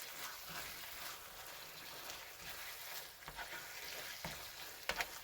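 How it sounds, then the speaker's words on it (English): Melting cheese sauce stirred in a hot pan, a quiet steady sizzle with occasional soft scrapes and clicks toward the end, close by and without talk. "So, I'm going to stir that around again."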